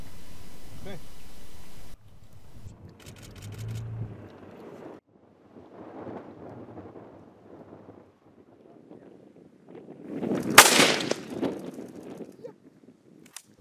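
A single sharp crack from a hunting rifle on a desert hunt in Abu Dhabi, loud and sudden after quieter stretches of wind and soft talk.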